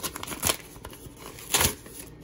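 An eBay package of LEGO is cut open, with two short, close bursts of crinkling, scraping plastic and cardboard rustle against a quiet background.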